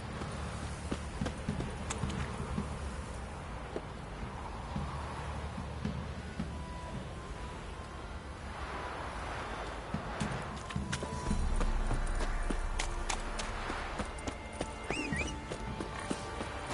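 Horse hooves clip-clop steadily on a road in The Witcher 3, a continuous galloping rhythm close by with faint ambient background.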